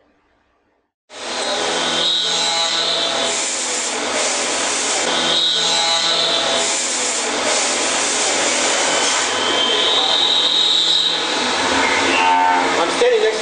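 A CNC machine cuts an aluminum rifle receiver in a factory, giving a loud, steady grinding and whirring with shifting tonal whines, starting abruptly and running continuously; a voice talks over it.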